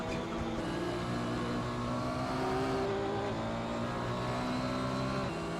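A Porsche 911 GT1 engine revs steadily at Silverstone in Assetto Corsa, a continuous loud racing drone with shifting pitch, held throughout without pause.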